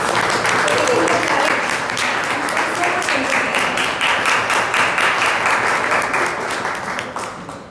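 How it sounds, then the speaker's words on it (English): A big round of applause rings out for the participants at a Toastmasters special meeting, dense steady clapping from a full room that runs loud throughout and tapers slightly at the end. "A big round of applause for the"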